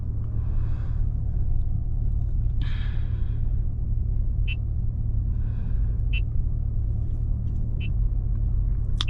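A C8 Corvette drives on an open road, its engine a steady low rumble with constant road and wind noise throughout and a few faint higher swishes of passing traffic.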